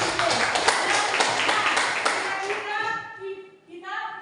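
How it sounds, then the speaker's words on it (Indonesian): Children in a classroom clap together in a brisk burst of applause lasting a few seconds, then young voices speak as the clapping fades. "Tepuk tangan juga untuk si Putri."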